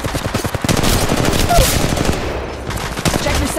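Bursts of rapid automatic weapon fire in the Apex Legends Mobile video game, loud and close, with a short lull near the middle before the shooting resumes.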